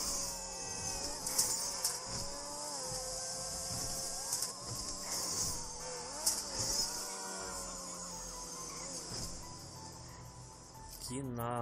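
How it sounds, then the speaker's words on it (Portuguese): A high-pitched, whining X80 Proto engine revs and accelerates in the GTA 5 video game, sounding like a Formula 1 car. Its sustained tone rises and dips through gear changes, steady and fairly loud, ending with a brief sharp burst. "Ele tem um barulho bem de Fórmula 1 mesmo"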